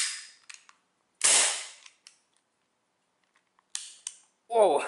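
A Sig Sauer X-Five Cybergun airsoft pistol cycles its slide with no BB loaded, giving a few sharp, crisp mechanical snaps separated by quiet gaps, with a brief voice at the very end.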